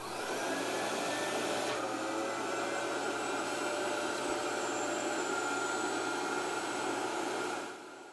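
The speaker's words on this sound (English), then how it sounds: "Turn on the vacuum and push the clamp down onto the vacuum and leave for 30" A vacuum forming machine runs to shape a custom bleaching tray, a loud steady whooshing roar holding for about seven seconds before cutting off near the end.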